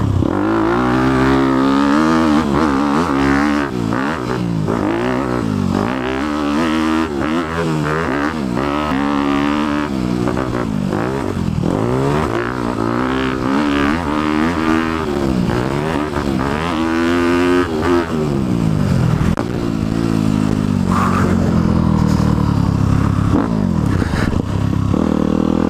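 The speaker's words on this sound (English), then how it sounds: "This double FMF pipe makes a lot of noise." A 2018 Honda CRF250 big-bore dirt bike with a double FMF exhaust revs loudly and continuously, its engine pitch rising and falling through repeated throttle blips and gear changes, up close.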